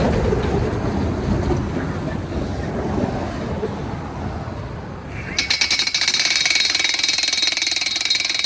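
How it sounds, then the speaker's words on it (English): A Milwaukee MX Fuel breaker hammer drives an anchor into the ground, starting with a low rumbling drone and then breaking into a loud, rapid, continuous hammering rattle that keeps going to the end. "press on the trigger and drive the anchor into the ground"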